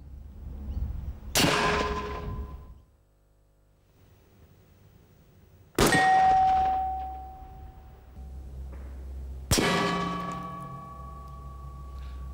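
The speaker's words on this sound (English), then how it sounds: "The firer will be firing on the targets from left to right." Three loud, separate small arms rounds strike mild steel plate targets, each impact ringing with a metallic clang that decays over a couple of seconds, with quiet gaps between the shots.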